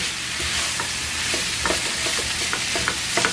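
Ground meat and tomato sauce being stirred in a hot pan for nachos, a continuous sizzle with scattered scraping and clicking strokes from the spoon, close up and without speech.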